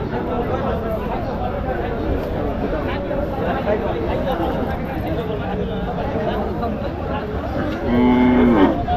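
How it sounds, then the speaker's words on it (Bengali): Cattle moo at a busy livestock market, with a loud, drawn-out low call near the end rising above constant crowd chatter and voices. "গরু দেখছেন,"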